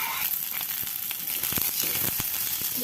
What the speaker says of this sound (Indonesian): Diaduk-aduk sampai cabainya agak sedikit layu